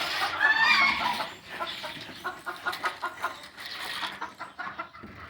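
Chickens cluck outside at a farm market, a bird's shrill call up front, then a run of short, repeated clucks nearby at moderate volume with no talk.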